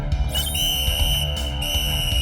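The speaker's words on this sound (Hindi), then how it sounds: "विसल ट्राई करता हूं।" A shrill, steady whistle tone rings out over a low rumbling background, loud and continuous for a couple of seconds.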